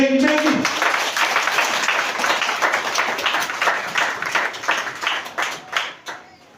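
A church congregation breaks into loud, dense applause that fades gradually over several seconds, after a short spoken voice at the start.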